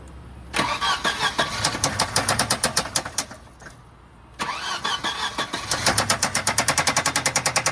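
A 1992 Volvo 740 Turbo cranking and firing up close by, with rapid rhythmic starter chugging, a brief lull, then more cranking that settles into a running engine.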